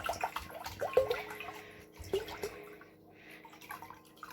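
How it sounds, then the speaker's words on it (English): Water poured from a one-litre bottle into a glass bowl, giving a steady splashing, trickling flow close by with a couple of brighter plops and a gradual easing toward the end. "I'm going to estimate that my glass bowl will hold more than this 1 litre of water that is in my bottle. So I'm going to keep pouring until it's done."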